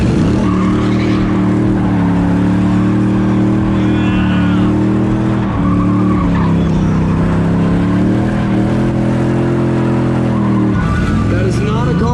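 A street-legal NASCAR race car does a burnout before a sold-out crowd, its loud, steady engine roar holding across the whole stretch with pitch shifts as the revs rise and fall, while crowd noise and voices carry underneath.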